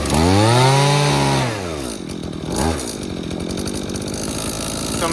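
Twenty-five-year-old Husqvarna 323L string trimmer with a 25cc two-stroke engine, revving high and then falling to a steady buzzing idle with a brief blip in between, close by.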